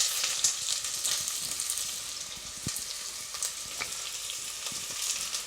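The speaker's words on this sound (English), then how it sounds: "my spices have popped." Whole spices pop and sizzle in hot oil, the start of a venison tikka masala: a steady bright frying hiss with scattered small crackles and pops throughout, close and fairly loud, with no talking.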